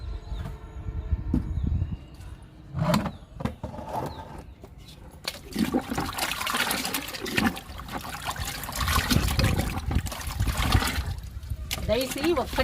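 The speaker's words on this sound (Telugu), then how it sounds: "డైసీ మొక్కకి అలోవెరా లిక్విడ్ ఇచ్చేద్దాము" Aloe vera liquid fertilizer trickles and splashes as it is poured onto a potted daisy plant, with uneven gurgling bursts and some handling noise.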